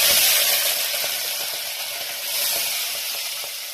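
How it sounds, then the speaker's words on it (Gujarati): Pigeon peas dropped into hot oil in a pan give a steady, bright sizzle that stays fairly loud across the clip, with a slight swell partway through and no talking. "જોઈ શકો છો આપણે તેલ ગરમ થઈ ગયું છે। આપણે એમાં એડ કરીશું તુવેરના દાણા।"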